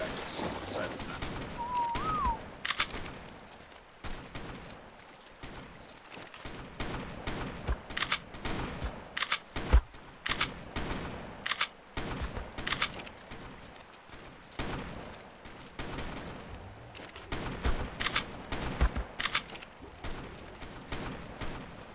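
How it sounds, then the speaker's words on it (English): Shotgun gunfire during a boss battle in ARK Survival Evolved, with repeated sharp blasts in irregular bursts, some clustered close together, under ongoing player chatter. "Just shoot the shotgun."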